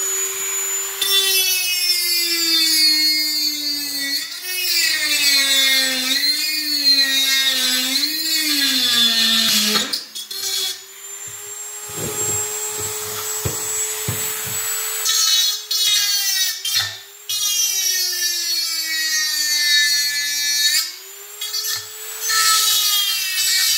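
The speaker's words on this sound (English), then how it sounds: "Which is the Dremel tool with a nice little grinding tip on there." A Dremel rotary tool with a small grinding tip, used during a halogen headlight upgrade on a Ford Model A Roadster. It gives a loud continuous whine that rises and falls in pitch, with a brief break midway.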